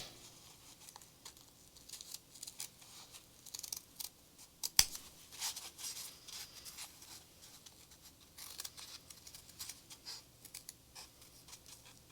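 Scissors snip and trim a handmade spirit doll in a series of quiet, close crisp cuts at an irregular rhythm, with faint rustling of material in between and no talking.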